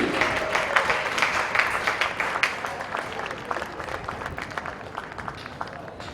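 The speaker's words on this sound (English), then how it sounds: "How about another round of applause for Team D'Ambrose MD?" Steady applause from a crowd at a polo club trophy presentation, many hands clapping densely and continuously at moderate volume, with no talking over it.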